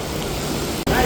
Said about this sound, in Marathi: ही जोराचा पाऊस आला आहे.